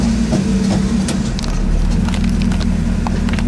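A 1967 Camaro RS idling smoothly after being shut down to a settled idle, a steady, loud low rumble heard close with no talk.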